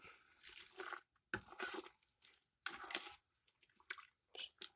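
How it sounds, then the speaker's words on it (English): Wet, squishy scraping and sloshing as a pot of pear wine sour mash, a week into fermenting, is stirred and its sides scraped, coming in irregular close strokes with short quiet gaps. "Just give it a good stir, scrape the sides there."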